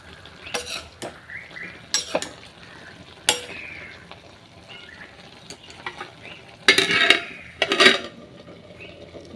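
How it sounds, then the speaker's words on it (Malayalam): A spoon stirs a pot that has just come to the boil in a home kitchen. Several distinct bursts of scraping and clinking against the pot ride over a soft, steady bubbling hiss, with no talking. "കുറച്ചൊന്ന് ഇളക്കി കൊടുക്കുന്നുണ്ടേ. ജസ്റ്റ് ഒന്നത് തിളച്ച് വന്നു."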